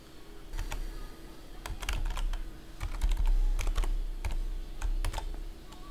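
Fingers type on a computer keyboard while entering text into a sign-up field, a close series of quick irregular key clicks in bursts, fairly clear over a steady low room hum, with no talking.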